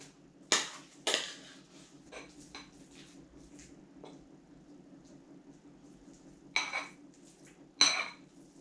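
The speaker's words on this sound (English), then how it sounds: "we transfer it all to the serving dish" Cooked pulses being transferred into a serving dish, heard as sharp clinks and scrapes of a utensil against pots and dishes, a few loud knocks spread across the clip over a faint steady hum.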